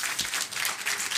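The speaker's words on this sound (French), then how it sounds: "Je pense qu'on peut grandement les applaudir très," A short burst of audience applause at a French startup event: dense, rapid clapping from a crowd, moderately loud and continuous for just over a second.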